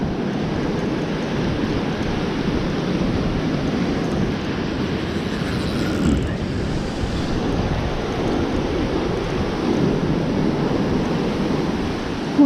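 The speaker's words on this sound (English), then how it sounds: "Come on, big wave." Gulf surf breaking on a Fort Morgan, Alabama beach, a continuous broad wash of waves with steady wind noise across the microphone, no talking.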